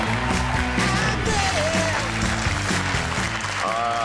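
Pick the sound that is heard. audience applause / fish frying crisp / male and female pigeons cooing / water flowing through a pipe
audience applause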